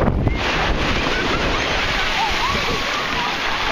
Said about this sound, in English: The waves aren't too bad today.